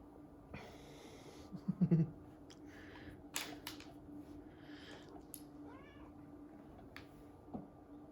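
A person imitates a cat with soft, close meowing sounds, a few scattered mews over a quiet, faintly humming background.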